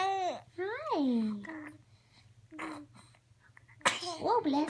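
A small child's sneeze bursts out sharply near the end, after a stretch of babbling vocal sounds, with a steady low hum underneath.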